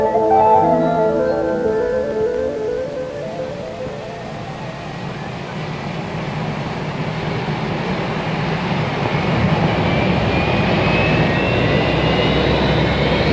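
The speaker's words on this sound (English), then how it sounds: "In spite of snow and freezing temperatures, engines are motored." Four jet engines of a Boeing 747-100 run on the ground in snow and freezing weather, a loud continuous roar and whine that slowly swells and shifts in pitch, heard up close without pause.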